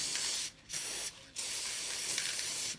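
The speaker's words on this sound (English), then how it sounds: "I'm going to just spray the bottom" Aerosol spray paint hisses in three bursts onto the bottom half of a pinecone being decorated as a mermaid hanger, with short pauses between bursts; close, loud and steady, with no talking.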